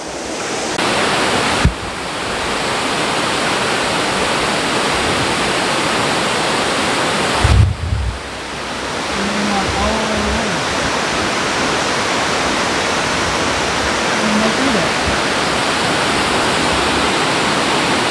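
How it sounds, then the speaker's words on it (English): Steady, broad roar of falling water fills the scene, constant and close, with a brief bump of handling noise partway through. "Very wide waterfalls."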